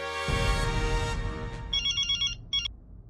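A telephone ringing in a sitcom scene, an electronic ringtone with repeated bursts following a sustained tone, fairly loud and with no talk over it.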